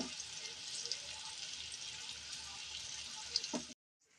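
Surmai kingfish fries in hot oil in a pan with a steady, close hiss and crackle, a couple of sharp pops near the end, then the sound cuts off abruptly to near silence.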